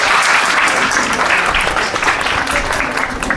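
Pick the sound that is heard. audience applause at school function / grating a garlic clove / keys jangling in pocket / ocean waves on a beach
audience applause at school function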